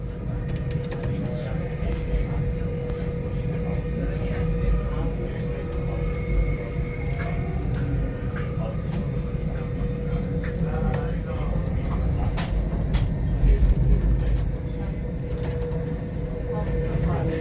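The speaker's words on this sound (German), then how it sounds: "Und schauen wir, wie es den Zug schaukelt und birgt." Mariazellerbahn narrow-gauge train rocking along its tracks, a steady loud rumble and rattle of the carriage running continuously with faint metallic squeals, close and unbroken throughout.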